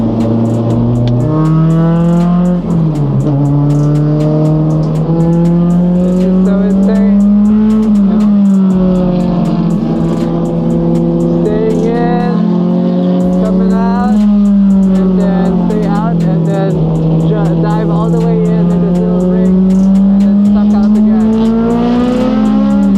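A car pulls out of pit lane at Tsukuba Circuit, its engine droning loud and steady close by, pitch rising and falling as it accelerates and shifts, with a voice talking over it.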